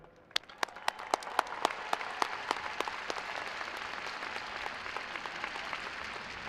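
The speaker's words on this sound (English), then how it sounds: "let's have one more round of applause for all the winners" Commencement crowd at WKU applauds the honors graduates. A few distinct early claps quickly swell into a broad, sustained wash of applause filling the hall, steady to the end.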